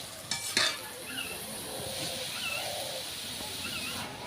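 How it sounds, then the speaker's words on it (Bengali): Onions frying in oil over a lowered flame for a Bengali-style veg biryani, a soft steady sizzle with a couple of clinks of a utensil against the pan at the start and light stirring scrapes, faint bird-like chirps in the background. "পেঁয়াজগুলো দিয়ে জালটা একটু কম করে পেঁয়াজটা ভাজতে হবে।"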